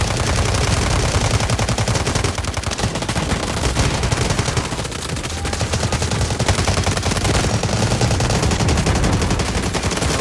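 Rapid automatic gunfire from a Delta Force Mobile match rattles on loud and almost without pause, with dense overlapping bursts filling the whole stretch.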